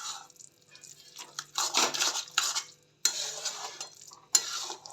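Curry being stirred with coriander leaves in a cooking pot, a spoon scraping and clinking against the metal in uneven bursts at close range, with brief pauses between strokes.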